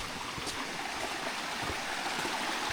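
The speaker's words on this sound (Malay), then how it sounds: "Oh, ni air sungai ni." A river flows with a steady, even rush of water on the Lata Medang hiking trail, fairly soft and continuous throughout.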